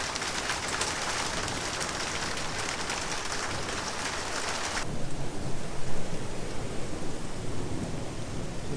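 Heavy rain pours steadily during a severe thunderstorm that brought some hail, with deep low thunder rolling underneath. The downpour lightens abruptly halfway through while the thunder keeps rumbling, and faint bird calls may be heard with no talk.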